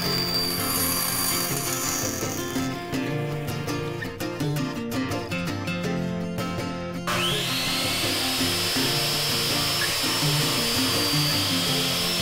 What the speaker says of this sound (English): And for this cut, I'll use the bandsaw.